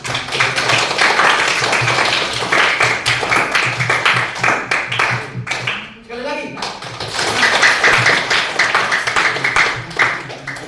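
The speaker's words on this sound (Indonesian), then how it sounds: "tepuk tangan dulu untuk kita" A classroom of students claps in dense, continuous applause, pausing briefly while a voice speaks, then clapping again just as loudly.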